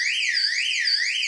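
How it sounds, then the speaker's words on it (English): A small, compact vibration-triggered alarm door stopper sounds a loud, piercing electronic siren that sweeps up and down steadily without a break. "And the best part, there's an alarm."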